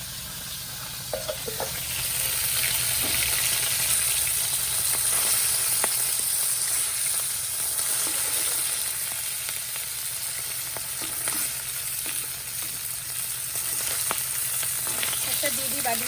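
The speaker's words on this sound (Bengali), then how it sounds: "এখানে যে মাছ ভাজা করছি আর কিছু মাছ এখানে যে ভাজা হয়ে গেছে সেগুলোকে তুলে নিয়েছি" Fish pieces fry in a pan with a loud, constant sizzle and crackle that holds steady throughout, close up and without speech.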